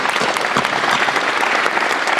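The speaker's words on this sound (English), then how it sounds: "Big round of applause." Steady, dense applause from a crowd, loud and continuous without a break.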